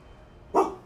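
A single short puppy bark, fairly close and loud against a quiet room background, heard alone without talk.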